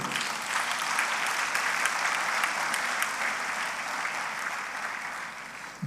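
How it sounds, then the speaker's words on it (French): Steady audience applause fills the room, dense and sustained for several seconds without a break, with no speech over it. "Acclame, s'il te plaît."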